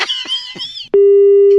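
After a call is hung up, a phone line gives a loud, steady, unbroken tone that starts abruptly after a few brief chirps.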